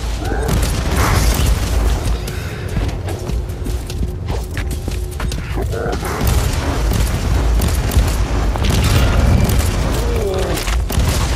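Rapid gunfire and heavy booming blasts in the Warhammer 40,000: Inquisitor - Martyr video game, dense repeated impacts with footstep-like thuds and combat clutter throughout, loud and close.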